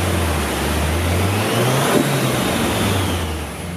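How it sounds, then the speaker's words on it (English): A Nissan SR20DET in an S15 Silvia revs up under load on the dyno, its mid-pitched engine note climbing and holding steady at close range, loud and continuous with no talk. "We're going to get the engine a rev, have a look at what sort of power it makes, what sort of torque it makes."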